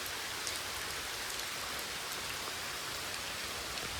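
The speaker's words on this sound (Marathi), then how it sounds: "आणि इथं पाऊस अजून सुरूच आहे." Steady rain falling at a traditional old mansion, an even, soft patter of drops on surfaces that continues unbroken with no voices.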